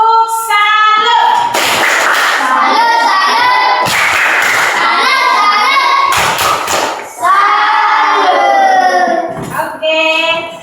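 A group of people doing the 'tepuk salam' clapping greeting in a classroom-style setting, with rhythmic bursts of sharp claps mixed with loud chanted voices, close and energetic throughout.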